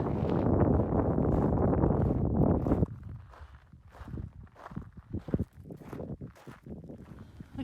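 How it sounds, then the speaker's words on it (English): A strong gust of wind roars against the microphone on a hiking trail in Death Valley National Park, then drops off abruptly, leaving softer, intermittent bursts of wind noise. "It's very, very windy"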